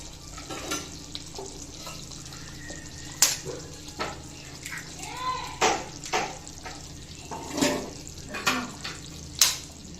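Steady sizzling from a pan over low heat with a few sharper splashes and clinks as egg is poured into the simmering liquid, no voices.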